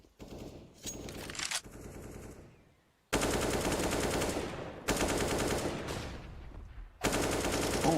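Bursts of automatic gunfire from a Counter-Strike match on the Inferno map, loud and close with dense rapid shots in several long sprays separated by brief gaps.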